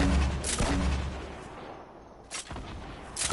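Gunfire in a video game, a few loud booming shots with a heavy blast near the start and more bursts toward the end, no talking.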